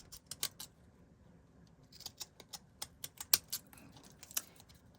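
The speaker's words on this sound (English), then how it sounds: "get our fancy scissors and go ahead and start cutting the shape that we want" Fancy scissors snip through paper to cut a feather shape, giving faint, close, irregular crisp clicks and snips against a quiet background.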